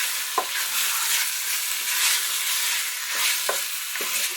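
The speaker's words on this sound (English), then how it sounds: "I'll give it one more stir" A spoon stirs ox cheek curry in a pot, a few distinct scraping knocks against the pot over a soft, steady sizzle, close up and without voices.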